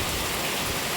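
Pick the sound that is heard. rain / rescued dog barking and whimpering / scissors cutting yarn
rain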